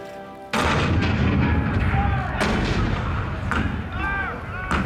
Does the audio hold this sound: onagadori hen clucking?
no